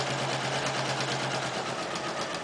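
A sewing machine runs steadily, stitching a sleeve placket seam along a raw edge, with a close, even, rapid mechanical whir and humming motor throughout.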